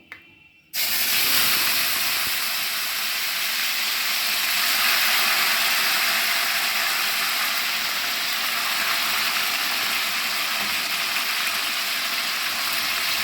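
Chicken pieces fry in pure mustard oil with a loud, continuous hiss and sizzle that starts abruptly and holds steady and close throughout.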